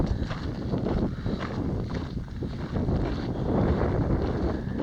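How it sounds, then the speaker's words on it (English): Strong wind buffets the microphone with a steady, rough roar that surges and gusts, loud and close, with no voices. "Really windy today too."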